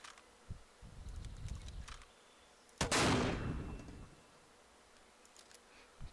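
A mortar fires in a video game: one loud, sudden boom just before the midpoint that rumbles away over about a second, with faint clicks and a low murmur before it and quiet afterward.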